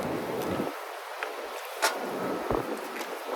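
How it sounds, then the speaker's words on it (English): Wind buffets the microphone in a steady, rumbling roar with occasional gusty bursts throughout. "All of a sudden, it's windy now."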